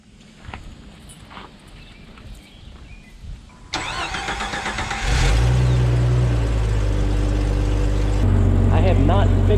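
A '98 car with a leaking exhaust manifold cranks over and fires up, settling into a loud, steady idle that rumbles on close by after some quieter handling noises.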